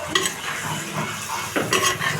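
Turmeric is stirred into a dish in a pan with soft repeated scraping and mixing strokes over a light sizzle. A heavier stir toward the end is the clearest sound.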